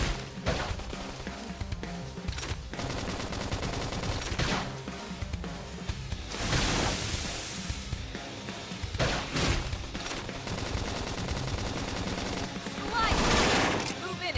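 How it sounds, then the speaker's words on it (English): Dense bursts of gunfire rattle through Xenoblade Chronicles X combat, with repeated volleys and heavier surges amid continuous game noise. "Now if we can just topple them with gunfire."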